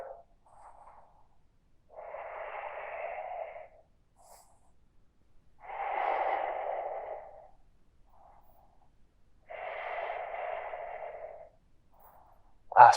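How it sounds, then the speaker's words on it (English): Slow, steady breathing during a beginner yoga session, three long, soft breaths spaced evenly a few seconds apart, close and quiet with near silence between them. "Steady the breath."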